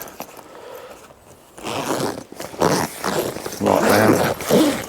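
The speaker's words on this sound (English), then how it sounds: "That zip's a lot better from the outside." The zip on a Nash Titan Hide XL Pro bivvy, a carp fishing tent, is pulled in several rough, raspy strokes at close range, following a quieter start.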